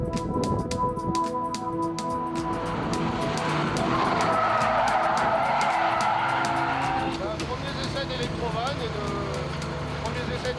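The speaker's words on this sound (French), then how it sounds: "Premiers essais de virage avec la Ferrari, avec les électrovannes, blocage sur l'arrière." A Ferrari making its first cornering stunt tests with solenoid valves locking the rear skids through a long, loud tire squeal over its engine, while a narrator talks throughout.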